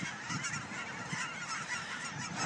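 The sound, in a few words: geese honking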